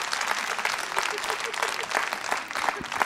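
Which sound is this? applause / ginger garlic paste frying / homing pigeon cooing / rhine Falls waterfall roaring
applause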